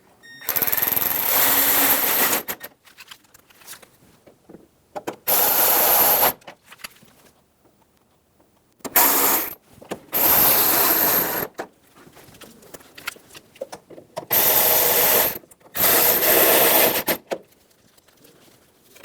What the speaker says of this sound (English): Install the screws.